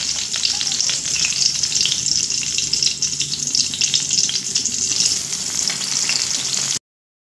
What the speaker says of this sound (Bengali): চাপা দিয়ে দিয়েই কিন্তু ভাজতে হবে